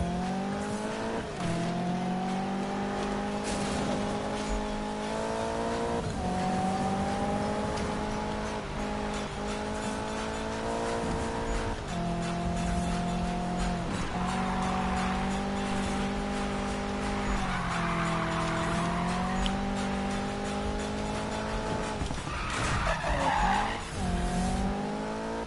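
In a racing video game, a car engine drones loudly and continuously for the whole stretch, its pitch rising and falling with gear changes, while tires squeal through the corners.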